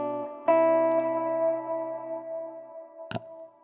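Music track with a light reverb effect applied, sustained tonal notes ringing out and decaying into a short echoing tail, with a brief sharp hit near the end.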